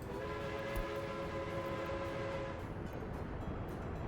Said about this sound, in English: What is the construction train doing here?